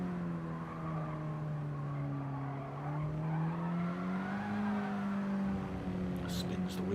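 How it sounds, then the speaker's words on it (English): A Mini Cooper race car spinning its wheels through a near-hairpin double apex in a Mini Cooper Cup race, a sustained engine drone with rising and falling pitch heard at a distance under a commentator's voice. "Spins the wheels up as he goes through there"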